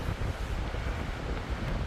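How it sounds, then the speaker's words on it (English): Wind gusts steadily against the microphone outdoors near a flight of stairs, producing a constant low, broadband rumble with no voices. "And it is windy."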